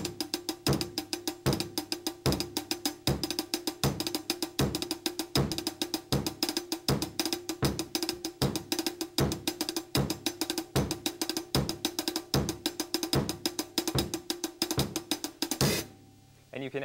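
Drums play a steady, busy hi-hat groove in quintuplets, one of each five strokes doubled into a quick diddle, driven by regular kick hits and running continuously until a cymbal-like ring at the end.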